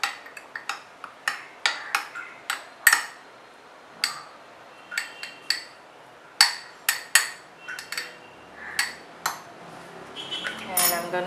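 A spoon stirs MTR instant upma mix with boiling water, giving about twenty sharp, close clinks and scrapes against the cup at an uneven rhythm. A faint rattle comes near the end.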